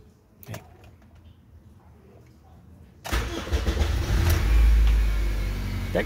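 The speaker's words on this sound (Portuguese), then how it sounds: "Vamos lá, deixa eu dar a partida aqui." A Honda Civic G8 engine cranks and catches after a quiet stretch, then settles into a steady, fairly loud idle with a brief rev at the start.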